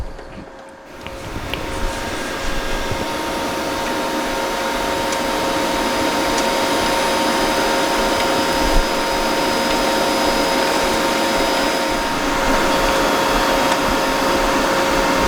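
A YesWelder MIG205DS wire feeder runs steadily while pulling wire off a new spool, giving a continuous motor whine and hum at moderate level with faint background noise and no speech.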